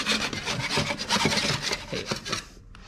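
Old silicone is scraped off a bedroom wall, producing a close, rough series of rhythmic rasping strokes that stop abruptly near the end, with no talking.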